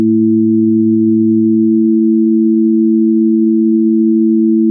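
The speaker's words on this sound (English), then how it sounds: "Here is a tone with a 220 Hz fundamental, and here is one with a 330 Hz fundamental." Two steady pure tones with 220 Hz and 330 Hz fundamentals sound together, loud and unwavering; the lower one drops out after about two seconds, leaving the higher tone alone.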